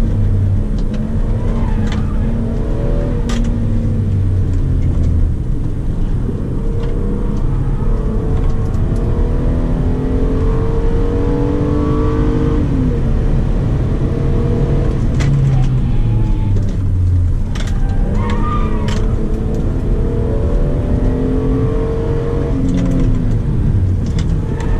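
Hyundai Azera with a 3.3-litre V6 pulls hard along a country road, its engine note climbing steadily through the gears with rising and falling harmonics, loud and continuous over road and wind noise for the full stretch.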